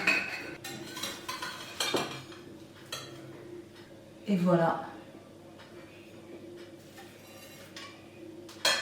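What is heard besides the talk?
knife cutting a freshly baked tarte tatin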